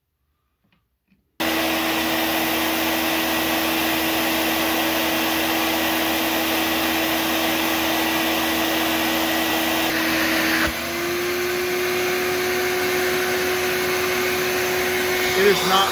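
A Regina Housekeeper vacuum cleaner switches on after a moment of silence and runs with a loud, steady whine during an airflow test, its pitch shifting slightly partway through as the load changes.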